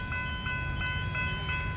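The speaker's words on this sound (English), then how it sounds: "I hear the train coming" Train approaching the Main Hurstbridge Road level crossing in Diamond Creek, Victoria, with crossing bells ringing in a steady repeating rhythm over a low rumble of the oncoming train.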